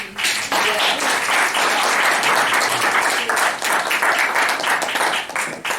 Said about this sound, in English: I just want to give all of them a round of applause.